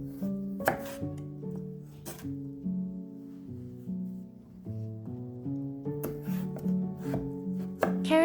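A knife chops a carrot on a cutting board in a series of crisp, irregular strikes, close and clear over soft background music, with no talking.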